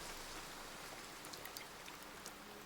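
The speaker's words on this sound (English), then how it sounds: "With the sudden downpour showing no signs of letting up" A sudden rain downpour falls in the game Love and Deepspace, a dense, steady patter of raindrops on surfaces with a few brighter drips, continuous and fairly soft, with no voices.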